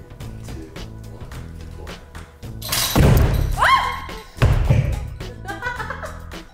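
A very heavy dumbbell slams down on a stack of burger patties, two loud heavy thuds with a splattering squish in the middle, framed by quieter clanks and handling noise.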